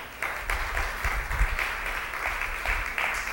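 Brief burst of applause during a religious talk, a few rhythmic pulses of clapping over a low rumble, fairly close and moderately loud.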